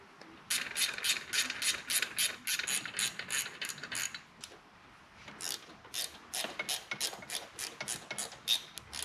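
Bolts come off the rocker box of a 2004 Harley-Davidson Road King Twin Cam with a rapid ratchet clicking in close, quiet bursts, pausing briefly midway before resuming.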